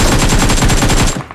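A loud, close burst of rapid automatic gunfire in the mobile battle royale game BGMI, its shots evenly spaced in a fast continuous spray for about a second before stopping.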